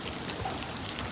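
Light rain falls at a town crossroads, a soft even patter and hiss at low level, steady across the short moment with a few faint drip accents.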